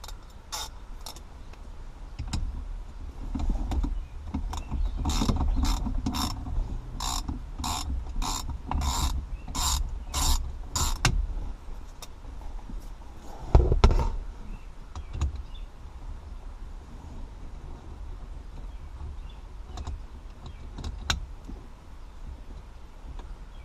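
A breaker bar with an extension loosens a wheel hub nut on a Ford Mustang, giving a run of sharp ratcheting clicks in a steady rhythm, then a heavier clunk as the nut breaks free, all close and alone with no talk.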